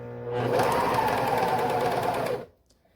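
A sewing machine runs steadily for about two seconds, stitching through three layers of fabric for doll clothes, close and loud, then stops abruptly.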